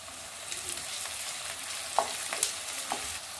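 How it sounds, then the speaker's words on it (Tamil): Sliced onion, green chili and curry leaves frying in oil in a pan: a steady close sizzle with a few small pops and spits, no voices. "பெரிய வெங்காயம் போட்டுக்கலாங்க. பச்சை மிளகாய் போட்டுக்கலாங்க. கருவேப்பிலை போட்டுக்கலாங்க."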